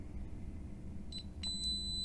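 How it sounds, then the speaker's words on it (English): Two short electronic beeps from a DSC security keypad, the second a steady high tone held for about half a second, over a quiet room hum. "press and hold for 3 seconds until it beeps"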